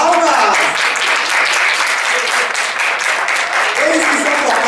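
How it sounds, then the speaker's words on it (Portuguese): An audience bursts into sustained applause for a Brazilian chorinho group, the Oito Batutas, a dense, loud crowd of clapping hands with a voice speaking over it at times. "Palmas, palmas!"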